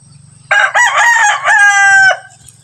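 A loud rooster crow rings out after a few soft low clucks, then the clucking murmur returns faintly as the crow fades.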